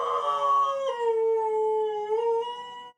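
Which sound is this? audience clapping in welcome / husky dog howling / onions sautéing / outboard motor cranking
husky dog howling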